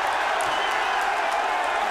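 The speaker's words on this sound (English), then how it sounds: "Every time a punch lands, the crowd gets into it" A boxing arena crowd roars and cheers at ringside during a heavyweight bout between Mariusz Wach and Tye Fields. The noise is a dense, continuous burst of crowd sound with scattered claps.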